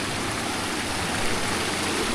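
An icy, partly frozen mountain river in the Harsil Valley rushes steadily nearby, a loud and continuous wash of flowing water with no voices.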